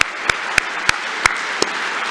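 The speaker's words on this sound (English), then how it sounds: "Massive round of applause," A crowd applauds steadily at a 2024 Melbourne Polytechnic graduation ceremony night, with continuous dense clapping and a few sharper claps standing out throughout.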